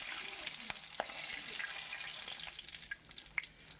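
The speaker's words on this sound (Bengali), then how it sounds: "এবার আমি বেশ লাল লাল করে আলুগুলোকে কিন্তু ভেজে তুলে রাখবো" Potatoes fry in a wok until browned, a steady close sizzle with light clicks and taps of stirring running through the short stretch.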